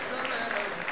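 An audience claps during a church service, a dense wash of hands that fills the short moment steadily and evenly.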